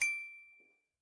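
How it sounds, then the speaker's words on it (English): A phone chimes once to signal a new message, a single bright ding that rings out and fades over most of a second. It sounds alone, with no voices. "my phone received a message from Lena."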